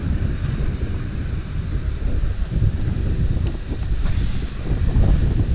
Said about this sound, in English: Wind is blowing so hard now, it's misting me with that fountain.